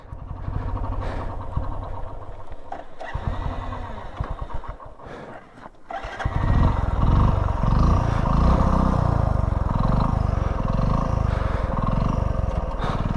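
A Hero Splendor motorcycle engine labouring uphill in second gear near Umling La pass: a steady, loud, rough drone that swells sharply partway through and then holds at a strained pitch, with no talking.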